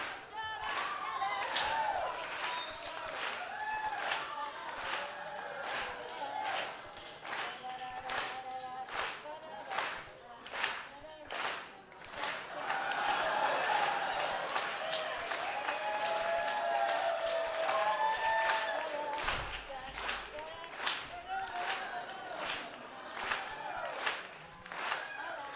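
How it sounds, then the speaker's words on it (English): An audience at a live folk concert clapping along in a steady rhythmic beat under singing and instruments, the claps moderately close and continuing through the whole passage. "Keep it clapping now"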